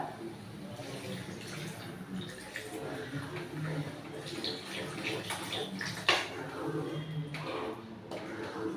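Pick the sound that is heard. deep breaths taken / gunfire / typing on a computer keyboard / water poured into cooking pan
water poured into cooking pan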